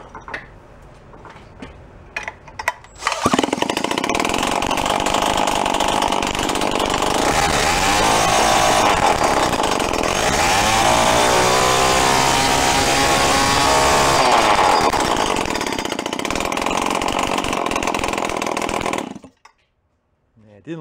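A small salvaged free bike engine runs loudly after a few opening knocks, the throttle held and revved for about fifteen seconds with a rising, wavering pitch before it cuts off abruptly.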